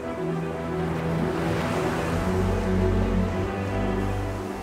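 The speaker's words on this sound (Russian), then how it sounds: "это действительно один из самых знаковых водопадов Исландии" One of Iceland's most iconic waterfalls, heard as a continuous broadband roar of falling water, steady and fairly distant, with no voices.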